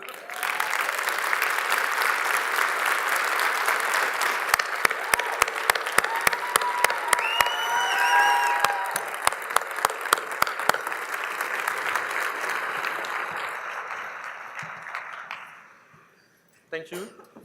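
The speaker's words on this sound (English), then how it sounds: "Stand up and give a big round of applause for Mr." A keynote audience at a newcomer-inclusion expo applauds Bob Cabeza with sustained, dense clapping that swells and holds for about fifteen seconds before fading, a voice briefly rising through the middle.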